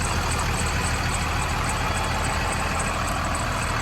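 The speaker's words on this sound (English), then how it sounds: "The engine is now running." A steady, droning engine of a 2014 Thor Tuscany 40GQ RV idles close by, a constant low rumble with an even hum and no changes in pitch or pace.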